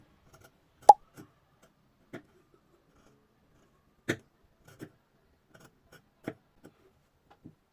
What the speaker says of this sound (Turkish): orta yırtmacı komple kesip çıkartıyoruz oradan